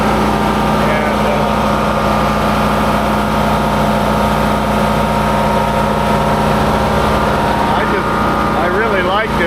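A small backup generator engine runs steadily and loudly up close, with a constant mid-pitched drone and hum throughout.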